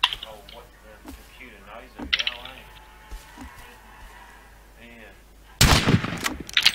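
Gunfire in the video game Rust: a loud broadband burst of shots near the end, after quieter sounds and brief game noises, with faint talk under the mix.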